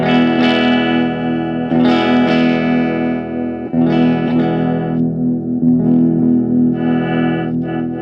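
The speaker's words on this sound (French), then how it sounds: "Le petit bouton de tonalité, je vais jouer avec différentes positions" Distorted Ibanez Gio electric guitar, its tone knob swept through different positions as several thick, sustained chords are struck and left ringing, the brightness shifting between strums, loud and close with no voices.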